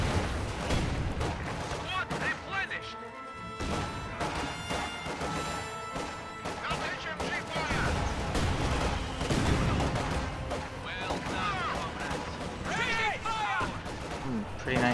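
Dense, continuous gunfire and explosive crashes from a multiplayer match of a Soviet-versus-German war strategy game, with machine gun crossfire keeping up a loud, unbroken din for the whole stretch while voices come and go underneath.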